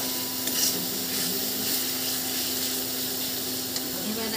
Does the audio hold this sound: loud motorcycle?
no